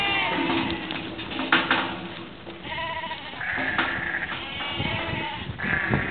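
White Dorper ewes with Damara breeding bleat repeatedly in a crowded saleyard pen, several overlapping calls rising over steady shuffling and background crowd noise.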